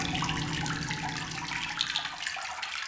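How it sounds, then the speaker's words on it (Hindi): Water runs steadily from a tap in a house, a constant hissing splash that continues alone without talk. "लग रहा है पानी निकल रहा है"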